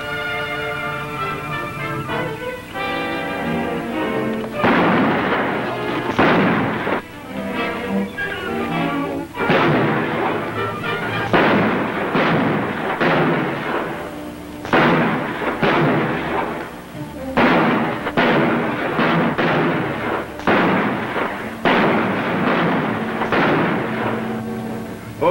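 Gunfire in a 1953 western: repeated loud, booming shots and volleys come in clusters across the stretch, dense and echoing, with some voices mixed in among the blasts.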